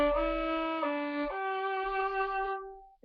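A solo fiddle plays a short lick built on scale-degree variations, moving through about four sustained, bowed notes that step upward and ring clearly before fading.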